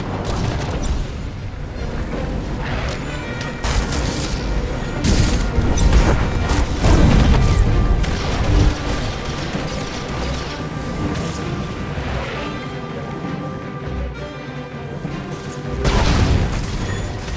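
An explosive barrel is destroyed in the Star Wars: The Old Republic video game, with dense, loud booms and crashing impacts layered over continuous combat noise and mechanical clatter throughout.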